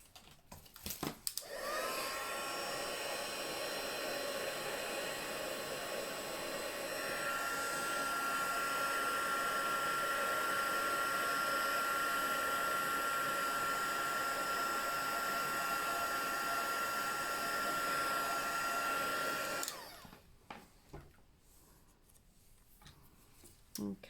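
A heat gun warms embossing powder on Early Espresso cardstock, running for about eighteen seconds as a steady whooshing roar with a faint high whine and a small shift in pitch partway through, then clicking off.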